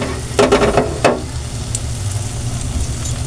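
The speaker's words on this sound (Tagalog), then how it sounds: "Matalamsik siya prituhin." Smoked fish (tinapa) fries in an uncovered pan, crackling and spattering loudly with a burst of quick pops early on, then settling into a steady sizzle with no talking.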